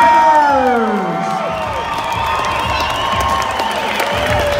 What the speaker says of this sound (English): Let's give a big round of applause to all of our fighters!